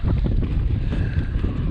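Strong wind buffeting a microphone out on the water during summer bass fishing on the California Delta, a loud, constant low rumble with gusty fluctuations.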